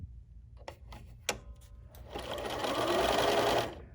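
A BERNINA sewing machine runs a short burst of satin stitches, a steady buzzing hum of rapid needle strokes that swells in the second half and stops abruptly, preceded by a few clicks and taps.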